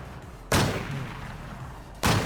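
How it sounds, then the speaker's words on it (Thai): Two heavy, booming SVD sniper rifle shots in the game Infestation, spaced about a second and a half apart, each with a sharp onset and a lingering rumble. "ยิงเรื่อยครับ"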